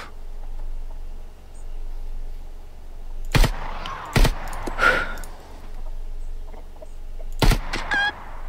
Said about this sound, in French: Ça c'est une vraie poule.